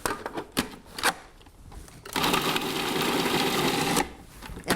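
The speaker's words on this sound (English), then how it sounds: "You don't have to chop it so fine because the food processor is going to do all the work." Food processor whirring as it grinds garlic cloves, with a few short pulses and bangs at first, then a steady, loud motor roar that runs about two seconds before stopping.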